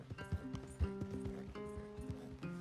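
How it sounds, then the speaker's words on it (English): Horse hooves clip-clop in a steady walking rhythm in Red Dead Redemption 2, close and fairly clear over a constant low background hum and a few faint game sounds. "Leave the horses in the trees there."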